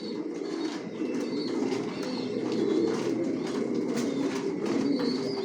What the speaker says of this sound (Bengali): সব জনসন লাইনের কবুতর পালি, লংয়ের।